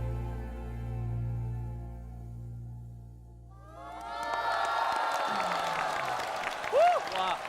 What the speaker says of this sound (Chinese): 全场掌声送给 BB，